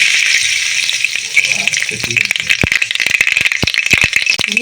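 Nigella seeds sizzle and pop loudly in hot oil left over from frying fish, a steady hiss broken by many sharp crackles that thicken toward the end, with no one talking.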